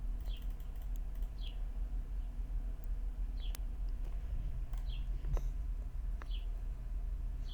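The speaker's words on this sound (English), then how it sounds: "there are some pretty loud birds" Outdoor birds chirp in short, sharp, spaced calls, a handful of bright tweets scattered over a steady low background hum, fairly clear but not close.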